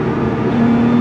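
A supercharged British six-speed manual supercar pulling in third gear: a loud, close engine drone with a rising whine that climbs steadily as it accelerates.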